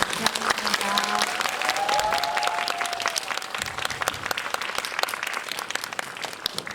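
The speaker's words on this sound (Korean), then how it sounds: "감독님, 배우님들 퇴장하실 때까지 한 번만 더 박수로 보내주시면 감사하겠습니다" Indoor audience applauding at a CGV Yongsan cinema guest-visit screening of the film 신체모음.zip, a steady, dense patter of many hands clapping close by, sustained without break, with brief voices under it.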